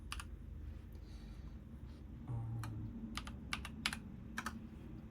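A login email and password are typed on a computer keyboard in quiet, close bursts of key clicks, irregular and sparse, with short pauses between the keystrokes.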